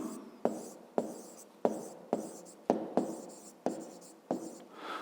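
A pen writes by hand on paper while working a fifth-grade math exercise, making about nine crisp, evenly spaced strokes in a quiet room with no speech.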